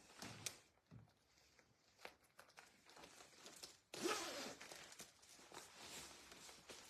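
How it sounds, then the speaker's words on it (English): A jacket zipper is pulled up in one quick rasping sweep, close and fairly soft, after some quiet rustling and handling of clothing. "And now I'm gonna zip it up."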